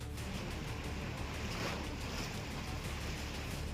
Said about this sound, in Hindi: लहरों का ये शोर डराता है, खौफ से भर देता है।